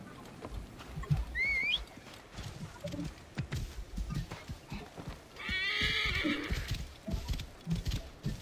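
In the video game Assassin's Creed Origins, a horse whinnies twice with rising, wavering neighs, while hoof clip-clops and scattered steps sound close by, with some voice underneath.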